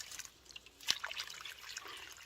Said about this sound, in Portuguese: Só nos resta jogar um pouquinho de água nela agora.